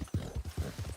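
Horse hooves clip-clop in quick, regular beats during a ride in the video game Cyberpunk 2077, a short, soft run of about five muffled thuds.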